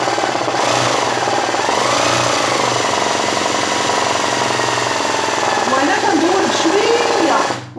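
A sewing machine stitches Rabati embroidery with a loud, fast, continuous rattling chatter that runs steadily until a brief drop at the very end, with a voice speaking over it.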